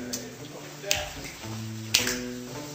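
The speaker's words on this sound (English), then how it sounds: "Does it sound good with a couple finger snaps" Finger snaps used as percussion in a song: two crisp, close snaps about a second apart over sustained musical tones.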